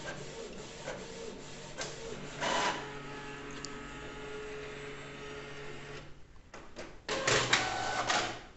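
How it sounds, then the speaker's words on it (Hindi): Canon inkjet printer with refilled PG-47 and CL-57 cartridges printing a black and white page, a steady mechanical whir with brief louder carriage passes and shuttling bursts near the end. "तो जैसा आप देख सकते हो ब्लैक प्रिंट भी शुरू हो चुका है।"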